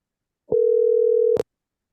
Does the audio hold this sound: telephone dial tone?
yes